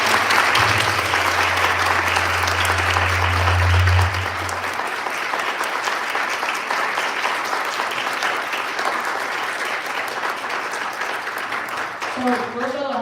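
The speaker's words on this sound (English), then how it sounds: "let's give them a round of applause" Audience applause fills a college hall after an author's reading by Silas House at Lindsey Wilson College, steady dense clapping with a low hum early on, sustained throughout and fading slightly near the end.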